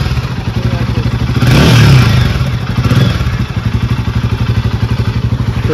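A 2024 Royal Enfield Guerrilla 450 motorcycle engine running close up, a loud, deep, rhythmic idle thump with a brief blip of revs swelling in the middle, no talking over it.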